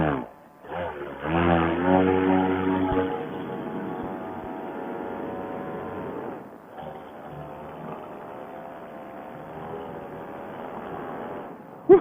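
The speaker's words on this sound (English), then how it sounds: "Electric paramotor test bed." The propeller of an electric paramotor prototype test bed whines and buzzes with a rising pitch, loud and close. It eases to a steadier drone midway and runs continuously to the end.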